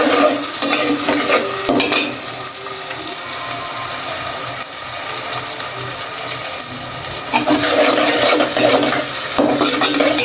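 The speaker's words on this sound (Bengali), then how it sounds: "পেঁয়াজটা ভাজা হতে থাকুক।" Onions fry in a pot for a fish curry, a loud continuous sizzle with repeated stirring scrapes and clatter of a spoon against the pot, up close and without speech.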